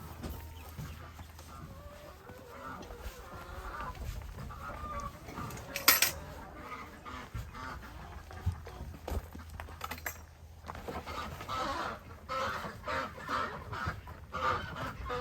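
Ducks and other poultry on a homestead during morning chores: scattered clucks, honks and quacks from several birds, mostly moderate and fairly close, with one sharper burst of calls in the middle and no talk.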